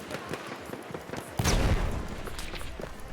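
A burst of gunfire erupts from the Battlefield 1 shotgun midway through, a sharp blast that rings out over scattered battle noise and background crackle, moderately loud and close.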